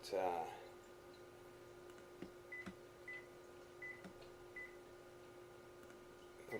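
An off-grid power system alarm gives short electronic beeps at irregular intervals over a steady electrical hum, faint and close, with a brief clunk near the start.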